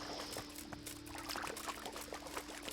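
Liquid pouring from a bottle of alcohol in the medieval Bohemian video game Kingdom Come, a steady trickling pour under a constant game ambience hum, with no talk over it.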